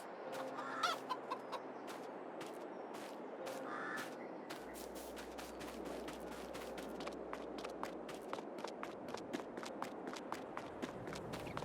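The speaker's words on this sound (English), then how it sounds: "Beyond, we have a chicken area. Go ahead and get our chickens." Chickens cluck and a rooster crows in the poultry area of a Farming Simulator 22 farm, with many sharp pecks or footstep clicks in a dense, steady flock ambience.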